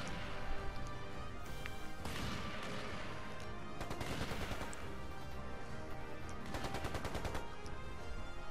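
Rapid automatic gunfire in Trails into Reverie, dense repeated bursts of fast shots over a busy battle backdrop, continuous and moderately loud with no voices.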